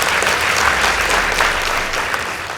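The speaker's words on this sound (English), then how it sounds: "Please give them a round of applause." Sustained audience applause at a school debate between Ruiri Girls High School and Garissa High School, a steady dense clapping from a crowd filling the hall, fairly loud and unbroken throughout.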